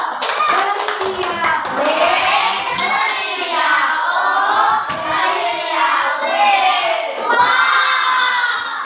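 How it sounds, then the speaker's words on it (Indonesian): Schoolchildren in an Indonesian classroom clap together after a group presentation, their clapping mixed with loud shouting and cheering that lasts throughout, close and energetic. "kita beri tepuk tangan"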